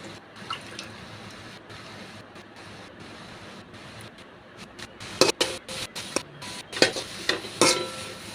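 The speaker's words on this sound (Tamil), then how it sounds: "இப்போ சட்டியில் போட்டு நல்லா ஈரப்பசம் போகிற வரைக்கும் வணக்கி விட்டுக்கலாம்." Boiled, chopped soya beans sauté in a pan as they are stirred: a soft sizzling hiss at first, then louder scraping clatters from a utensil against the pan in irregular bursts.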